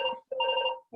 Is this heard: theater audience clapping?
no